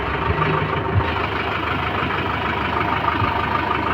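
A tractor's heavy diesel engine idles steadily nearby, a constant low rumble with a slight rhythmic chug throughout.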